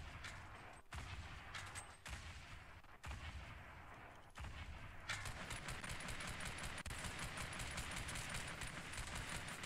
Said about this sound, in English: where are all those shots coming from?